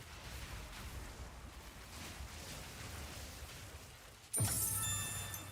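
Chance Orb dropping as loot in a Path of Exile-style action game: a sudden bright chiming clang rings out near the end, over a dense, low battle din of spell effects, with no speech.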